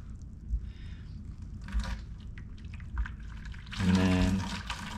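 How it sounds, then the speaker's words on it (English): Excess water drains from soaked cardboard into a bucket, with scattered drips and small taps giving way to a steadier, louder pour near the end. "So drain off all the extra water."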